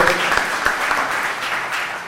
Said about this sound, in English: let's give them a strong round of applause for making our borough safer